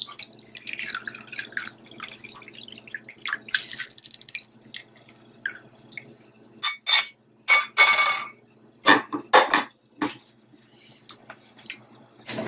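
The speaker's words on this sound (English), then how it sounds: "Now once the anise and clove water has been cooled, you're next going to strain." Cooled anise and clove water is strained, giving irregular drips and splashing pours with short bursts of louder trickling and a faint clink now and then, close by in a quiet room.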